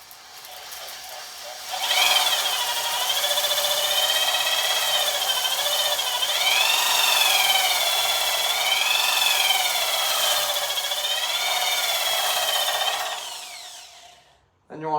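A cylinder hone spins inside the oiled bore of a Predator 212 engine clamped to a table, a steady loud whirring drone with wavering pitch that runs about eleven seconds before stopping.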